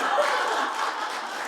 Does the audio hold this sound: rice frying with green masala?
no